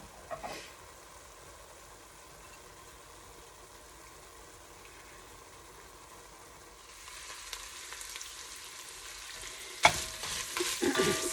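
Jimmy Dean Italian sausage browning in a pot for soup, a low steady sizzle that swells louder after several seconds as stirring scrapes and clatters join in near the end.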